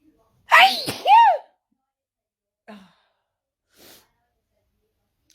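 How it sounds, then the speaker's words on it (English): A single loud, close sneeze with a sharp vocal burst is followed by a couple of faint sniffs and breaths in an otherwise quiet room. "I think what's triggered off my sneezing today is I'm a bit cold."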